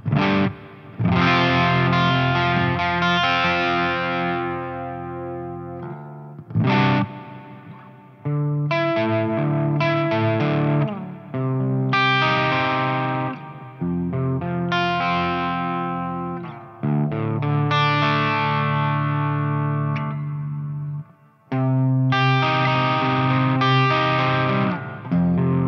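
An electric guitar plays chords and single-note phrases through a Neunaber Expanse reverb pedal on its basic reverb setting, loud and sustained, with distorted, washy tails between strums and no voices.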